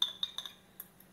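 A utensil lightly mixing egg white and yolk in a bowl gives a few quick faint clinks close together, followed by a softer tap and a short quiet tail.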